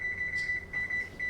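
A kitchen timer beeps in a home kitchen during baking, a steady high electronic tone broken into a few long pulses with short gaps, close and clear over faint room noise.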